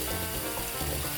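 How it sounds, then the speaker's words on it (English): Chicken pieces stir frying in a hot pan for stewed chicken, with a steady close sizzle and crackle of oil and juices throughout, no voices. "And we're gonna let our chicken stir fry."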